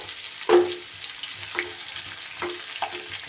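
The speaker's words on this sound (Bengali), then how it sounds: "প্যানের তেল গরম হলে এখানে আমি দুটো বেশ বড় সাইজের পেঁয়াজকে কেটে রেখেছি পেঁয়াজ দুটোকে দিয়ে দিলাম" Two large sliced onions hit hot rice bran oil in a pan, sizzling and frying steadily with a few sharp crackles and stirring clatters at intervals.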